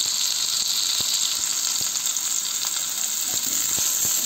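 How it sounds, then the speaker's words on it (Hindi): Chopped onions and bell peppers, added after garlic, frying in hot oil in a pan for a restaurant-style chilli potato dish, with a steady close sizzle and occasional stirring scrapes. "इसको अच्छे तरीके से भून लेंगे थोड़ी देर, लगभग 1 से 2 मिनट तक"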